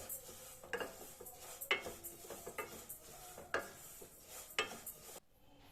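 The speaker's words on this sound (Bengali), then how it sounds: "ডালের মধ্যে মৌরি দিয়ে একসাথে ভেজে নেব।" Lentils and fennel seeds stirred in a dry pan, a soft rattling scrape with occasional clinks of a spoon against metal, close by, ending abruptly.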